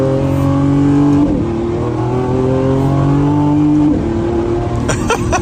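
Lamborghini Revuelto engine revving hard while driving, loud rising and falling engine tone with two gear-change dips, close and alone.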